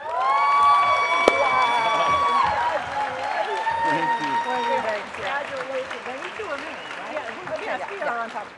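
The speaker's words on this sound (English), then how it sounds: "a very, very excited and enthusiastic round of applause for Nicholas MacArthur and Sandy Jo MacArthu" Loud, sustained applause and cheering from a gala audience, with clapping, whoops and crowd voices continuing steadily throughout, greeting Nicholas MacArthur and Sandy Jo MacArthur.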